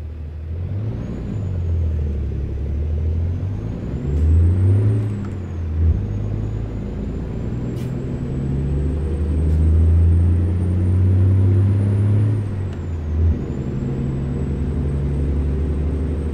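A heavy truck in American Truck Simulator pulls away from a stop in third gear, its diesel engine droning low and rising and falling with each throttle change, a hissing air-brake release and a faint whine above, without voices.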